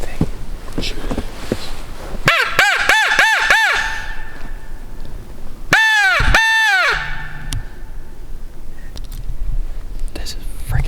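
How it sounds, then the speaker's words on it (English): A raven gives two bursts of loud, harsh croaking calls, a rapid run of about five and then a group of three, outdoors during a snowy turkey hunt, with faint background noise between the calls. "I think that's a raven."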